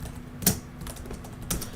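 Computer keyboard keys clicking during typing, with two sharp, distinct key strikes about a second apart over faint scattered clicks, close and quiet.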